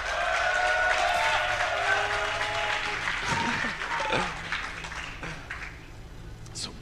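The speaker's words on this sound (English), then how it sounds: "A few remaining cheers from a tired crowd." A large crowd at a StarCraft esports match at DreamHack Summer applauds and cheers loudly, the noise slowly fading toward the end, with a few voices calling out over it.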